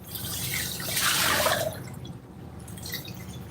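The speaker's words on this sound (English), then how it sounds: "a lot of people come in actually to listen to the full sounds of the river" Water by a river at a fishing spot, heard as a steady broadband rush with a trickling, dripping texture that swells briefly and then settles, continuous and fairly close.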